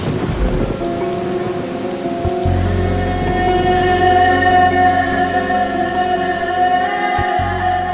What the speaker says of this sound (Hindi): एक तो बारिश भी बहुत ज्यादा है